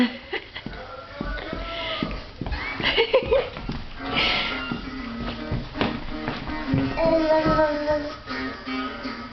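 On a muddy ranch, a horse gives loud, close whinnying neighs, with hoof clops and shuffling around it and people talking nearby.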